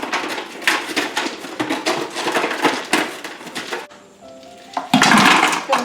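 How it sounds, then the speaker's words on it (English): Ice cubes clatter and rattle into a homemade vanilla ice cream maker's bucket in bursts of loud, close crashing, with a short quieter pause before another heavy dump of ice near the end. "Start adding the ice down inside, little at a time"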